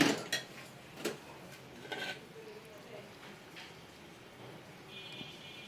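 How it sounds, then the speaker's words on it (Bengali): Mango pulp for a sweet-sour raw mango bar being spread thin across metal plates in a home kitchen; faint scraping and a few light clinks of utensil against plate, with sparse sharp taps early on. "এভাবে একটু মানে ছড়াই নিব যেন আমসত্বটা পাতলা হয়"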